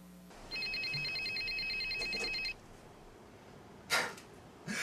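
A telephone rings in an indoor scene, a two-second electronic trill of rapidly pulsing tones, fairly clear over a quiet room, followed by a short rustle and a breathy noise.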